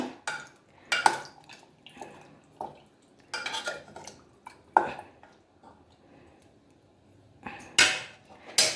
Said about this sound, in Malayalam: സ്പൂൺ വെച്ചിട്ട് ഒന്ന് ഇളക്കി കൊടുക്കട്ടെ